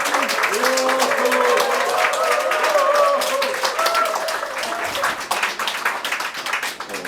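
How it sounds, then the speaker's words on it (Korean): An audience at a lecture applauds loudly and steadily as the speaker is welcomed, the clapping slowly thinning toward the end, with voices heard over it. "큰 박수로 맞이하여 주시기 바랍니다"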